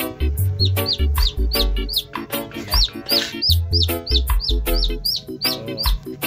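Newly hatched chicks cheep in a constant chorus of high, rising peeps, loud and close, with lower clucking from a hen in short bursts underneath.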